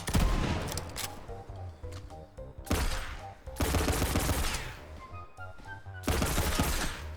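Rapid bursts of automatic gunfire from a weapon in Borderlands 3, played as FL4K, come in several dense volleys separated by short gaps, loud and close over a steady musical backdrop.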